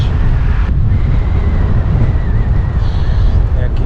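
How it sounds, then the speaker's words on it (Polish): Loud, constant headwind buffeting the microphone while cycling, a rough low rumble filling the whole clip with no voices. "ten wiatr mnie hamuje, kurczę, bo wieje mi dalej prosto w twarz"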